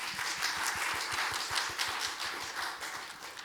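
A forum audience at a city council strategy event claps steadily to open the session, a soft, even mass of hand claps heard from a distance with a faint low rhythmic thumping beneath.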